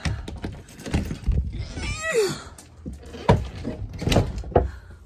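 A locked bedroom door being tried: several sharp knocking rattles of the handle and frame come in uneven bursts, with a brief high squeaky sound in the middle.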